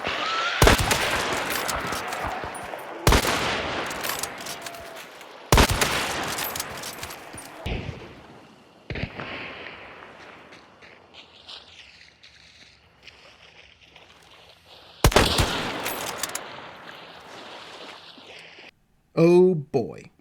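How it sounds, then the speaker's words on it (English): Shotgun, rifle and pistol fire in the game Hunt Showdown: several loud, separate muzzle blasts, each ringing out into a fading tail, with quieter gaps between them and a closing burst of sharp cracks. "Hearing that beautiful muzzle blast at the end of your shotgun or rifle or even your pistol, followed by the pop and crack of a headshot."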